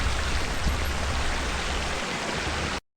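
A river runs along a road during a group motorcycle ride, a loud, steady broadband rush of water filling the whole clip with no talking, then cutting off abruptly at the end.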